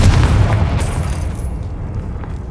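A Confringo spell explosion in the video game Hogwarts Legacy, a loud booming blast that rumbles out and slowly decays over a couple of seconds with no talk over it.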